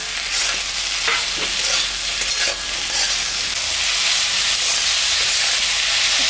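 Ground ginger, cumin and green chilli paste frying with turmeric and salt in a home kitchen pan, a steady close sizzle with soft stirring scrapes throughout, no voices.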